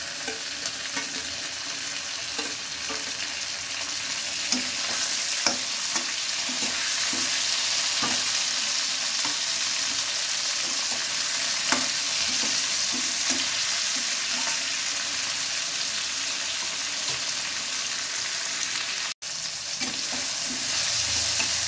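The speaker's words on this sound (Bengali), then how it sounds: "পেঁয়াজটা ভাজা হয়ে গেছে, এবার আমি দিয়ে দেবো" Tomatoes frying with onion in a pan for a Bengali tengra fish curry, a steady close sizzle with intermittent stirring scrapes throughout, no voices.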